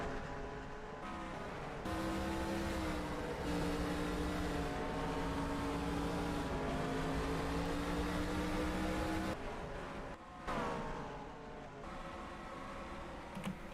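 Race cars circling the Bristol short track during a Piston Cup race, a steady loud engine drone with shifting pitch as cars pass, sustained throughout with a brief dip and surge near the end.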